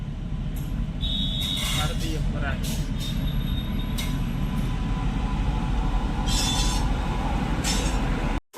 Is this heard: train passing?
yes